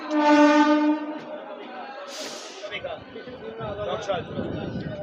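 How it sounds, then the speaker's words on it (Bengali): A train horn blares loudly for about a second as a passenger train prepares to leave Dasnagar on the way to Khirai, followed by station chatter and voices over rumbling carriages. "আর এবার ট্রেন ছেড়ে দেবে"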